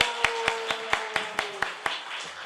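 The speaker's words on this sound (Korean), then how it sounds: "나오실 때 힘찬 박수로 여러분 환영해 주시기 바랍니다" Audience clapping welcomes a missionary pastor onto the stage at a Sunday church mission forum, with about nine sharp, evenly spaced claps standing out over a steady sustained tone and faint room murmur.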